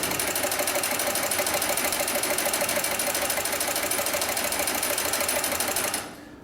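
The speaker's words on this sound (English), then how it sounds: "And now we'll sew forward again." A double-feed industrial sewing machine stitches slings and harness webbing in a fast, steady mechanical chatter, close and continuous, before stopping abruptly near the end.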